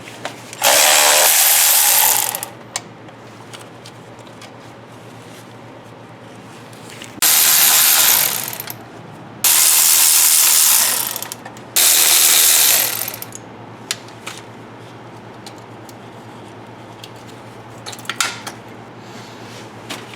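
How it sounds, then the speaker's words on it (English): A hand ratchet backs off carburetor nuts on an engine during a carburetor-to-fuel-injection conversion: three or four loud bursts of rapid clicking separated by quiet pauses. "Take the carburetor nuts off."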